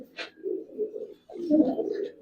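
Old-breed Giribaz pigeons give low, burbling coos in two bursts separated by a brief pause, close and moderately loud, with a faint chirp at the start.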